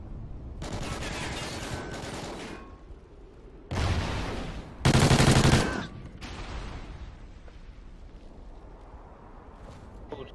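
Hip-fire gunfire in a video game: dense bursts of rapid shots in several loud clusters, the loudest near the middle, with quieter game noise between them.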